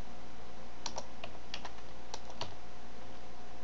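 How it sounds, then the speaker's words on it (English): Someone types a password on a computer keyboard, producing a handful of soft, scattered key clicks, faint and close, with no voices. "and then you type in your password"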